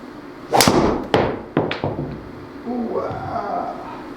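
A golf driver strikes a ball with a sharp crack, followed by a few softer knocks and thumps, then brief talking from people nearby.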